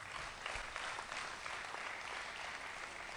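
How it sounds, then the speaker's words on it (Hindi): Audience at an Urdu mushaira in Ichalkaranji clapping warmly, a dense steady burst of applause filling the hall, sustained and fairly even with no speech over it. "बज़्म अदब उर्दू की खातिर पुरजोर तालियां बजाएं"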